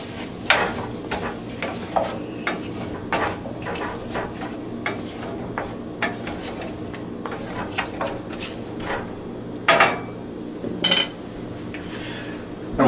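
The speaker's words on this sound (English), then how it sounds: "Give that a stir." Fennel stirred in a pan with a utensil, giving repeated scraping, clinking knocks against metal at an irregular pace over a soft background sizzle, with no talking.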